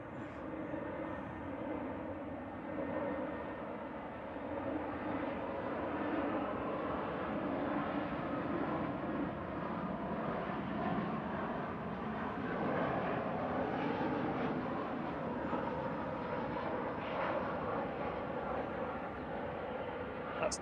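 An easyJet Airbus A320 airliner arriving at Manchester Airport on a flight from Amsterdam, a steady broad engine roar that holds loud and continuous throughout with no talk over it.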